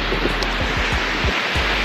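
Ocean waves wash in at a beach, a steady loud roar of surf mixed with wind buffeting the microphone, with no voices.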